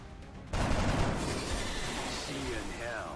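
A sudden heavy burst of soldiers' gunfire in XCOM: Enemy Unknown erupts after a quiet moment, then a dense roar of shots and impacts trails off, with a voice talking over it.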